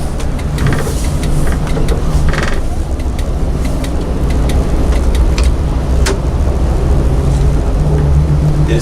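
A 40-foot bus registered as a motorhome rumbles along at low road speed, a loud continuous engine and road drone with scattered rattles and clicks from the cabin.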